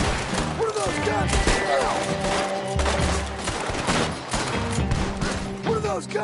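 Rapid gunfire crackles in Red Dead Redemption 2 as several guns shoot in overlapping volleys with sharp, loud cracks. Game characters' voices come and go between the shots.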